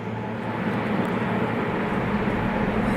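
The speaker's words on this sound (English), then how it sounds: "This video also shows how the tornado had an extremely loud jet-like roar." A large tornado in Alabama, heard as a loud continuous jet-like roar that stays steady throughout with no talk.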